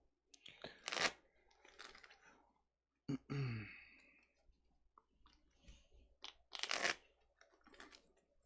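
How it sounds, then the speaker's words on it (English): A deck of trading cards for a tabletop card game is shuffled in a few separate bursts of riffling and crisp card snaps, close and fairly quiet, with no talk. "we'll shuffle up"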